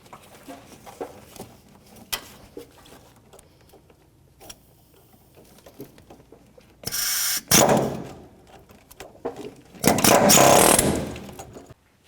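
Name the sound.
chiseling off a rusted shock nut on a Dodge Dakota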